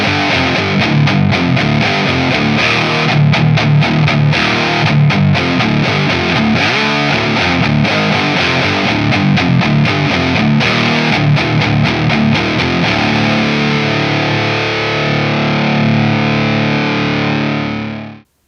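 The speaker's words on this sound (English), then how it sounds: "let's add a bunch of gain and play something a little more aggressive" A B&G Step Sister electric guitar played through heavy high-gain distortion, with an aggressive riff of loud, saturated chugging chords and driving palm-muted rhythm running continuously, then cut off and ringing out at the end.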